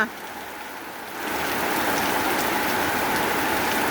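Rain falling on harvested rice spread out to dry in a field, a steady dense hiss of drops that starts softer and thickens into a heavier downpour, with no voices.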